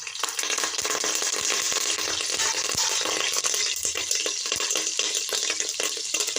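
Mustard seeds and curry leaves fry in about three spoons of hot oil, giving a dense steady crackling sizzle with scattered sharp pops, loud and close with no talk.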